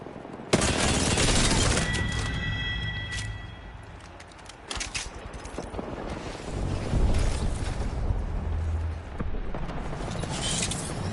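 Grenade explosions and gunfire in a shooter video game: repeated sharp bursts and heavy booms come in irregular waves, loud and close, with no speech.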